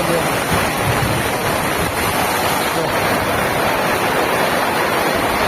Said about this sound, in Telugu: ఫుల్ వర్షం పడుతుంది ఇక్కడ